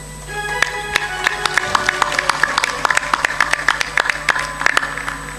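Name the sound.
audience clapping loudly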